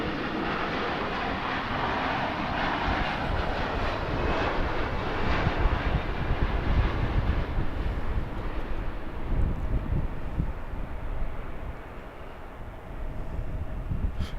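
Airliner engines at Los Angeles International Airport, a steady broad roaring rumble from a passing jet holding loud for many seconds before easing slightly, heard at moderate distance.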